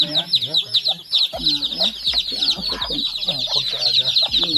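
Chickens cluck with the high cheeping of chicks throughout, a busy, close flock chorus, with voices talking now and then underneath.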